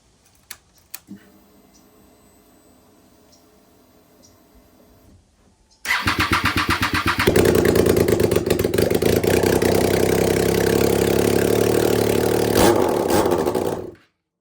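A quiet stretch with a few clicks, then a flooded 2008 Triumph Daytona 675 motorcycle engine fires up with no exhaust and runs loud and raw, a harsh unmuffled roar with steady rapid pulsing.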